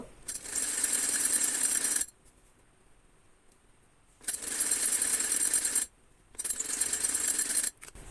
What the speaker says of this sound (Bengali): এই যে এভাবে আমি বাকি অংশটুকু মানে সেলাই দিয়ে নিব